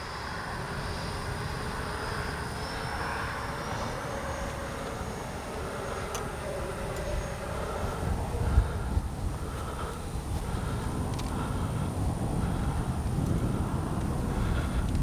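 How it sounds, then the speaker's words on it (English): An FMS Super Scorpion V2 radio-controlled jet flying overhead, a steady whooshing electric ducted-fan roar with wind noise, moderately loud and continuous, swelling slightly midway. "It's a good flying jet right here."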